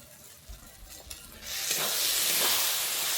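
Ash gourd curry in a pan as garam masala powder is stirred in: soft scraping at first, then a loud, steady frying sizzle takes over.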